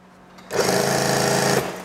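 A sewing machine runs in one steady burst lasting about a second, stitching an elastic waistband onto a junior high school skirt, its fast mechanical chatter loud and close, starting abruptly and stopping cleanly with no talk.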